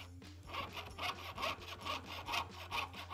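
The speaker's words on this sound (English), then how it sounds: "rotate the saw frame for the direction that you need to saw" A jeweler's saw frame pierces along a design in metal with a quick, even series of close, gentle rasping up-and-down strokes over a low steady hum, with no talking.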